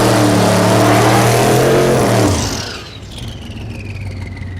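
A drag racing car's brand-new engine roars at full throttle at Thunder Valley in Noble, Oklahoma, loud and close, then the pitch drops and fades as the car pulls away, leaving a softer distant whine.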